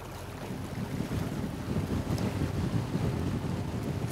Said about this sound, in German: Florian und Tassilo Lex legen gemeinsam ab, um die Fischernetze einzuholen